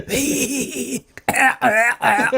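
A voice imitates a wheezy, stuttering laugh that breaks into a few rough, hacking coughs, close and fairly loud.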